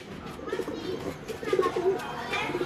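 Miyan Sahab breed pigeons coo on a rooftop loft in Rahmanpura, Ichhra, a soft repeated warbling at close range beneath steady background noise and some voices.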